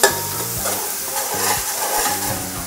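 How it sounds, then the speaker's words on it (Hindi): A spoon stirs crushed green chillies into garlic and ginger frying golden in a pan, with a steady sizzle and regular scraping strokes in a repeating rhythm, close and fairly loud, no voices. "अब मैं इसमें कुटी हुई हरी मिर्चें शामिल करूंगी, अच्छी तरह चम्मच चलाऊंगी"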